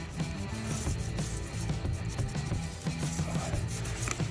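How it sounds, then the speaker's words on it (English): Driveway sealer is rubbed hard into a crack in the pavement, a continuous close scraping and rasping with a steady rhythm of pushes, loud and without voices. "we're just gonna rub it in real good, push it all in there, and make sure this whole crack is completely filled"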